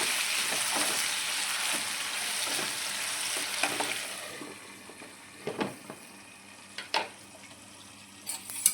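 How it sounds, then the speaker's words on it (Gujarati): Potatoes and peanuts fry in a pan while being stirred, with a dense close sizzle that thins out midway, leaving sharp scraping stirs at intervals over a quieter crackle. "વચ્ચે વચ્ચે આપણે બટેટાને હલાવતા રહીશું"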